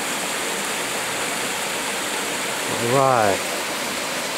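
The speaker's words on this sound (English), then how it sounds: "Let me zoom in a little bit on that waterfall." Small waterfall in a Japanese garden, a steady broadband rush of falling water that stays even throughout, with a brief spoken word partway through.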